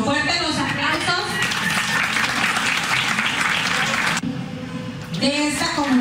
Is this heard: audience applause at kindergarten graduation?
yes